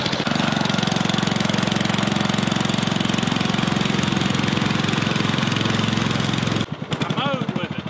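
A small engine fitted to a racing lawn mower runs hard and loud with a steady, rough buzz for nearly seven seconds, then drops out abruptly, leaving quieter rattling and a brief warbling tone.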